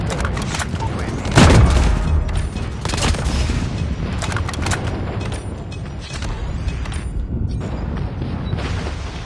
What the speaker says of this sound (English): Friendly airstrike incoming. Friendly napalm deployed.